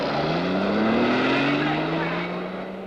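A 1953 Alfa Romeo race car on the Mille Miglia arriving with a loud, close engine roar whose pitch rises steadily as it approaches, a commentator's voice running over it.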